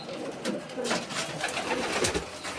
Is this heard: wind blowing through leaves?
no